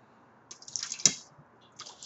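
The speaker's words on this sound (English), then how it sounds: "the first thing he's going to do is pour his water" Water is poured into a pie tin in a short, quiet burst of splashing and trickling, with a sharp splash in the middle and softer dribbles after, close and alone.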